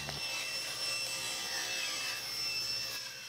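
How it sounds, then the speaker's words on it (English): A table saw blade is raised up through a plywood crosscut sled and slices off its edge, giving a steady high-pitched whine of the spinning blade cutting wood. The sound holds evenly for several seconds, fairly quiet, with no talk. "raising the blade up until it's just coming out of the plywood and slicing off that edge"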